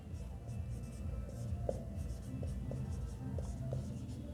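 Someone writes out a Hindi riddle by hand: a continuous, fairly quiet scratching with small taps scattered through it, steady for several seconds with no talking over it.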